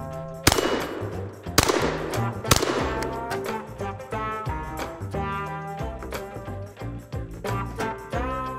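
Birdshot from a shotgun striking a half-inch AR550 steel target, giving three sharp, loud impacts with ringing clangs, followed by softer repeated metallic taps and a sustained ringing tail.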